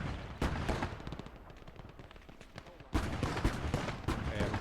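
Gunfire in the World War II strategy game Gates of Hell: Ostfront during a PvP match, with several sharp shots spaced a second or so apart over a busy rattle of battle noise.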